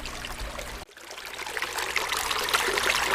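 Water trickles and splashes through a gold prospecting sluice outdoors, a soft continuous rushing flow that briefly drops out near the start and then builds gradually.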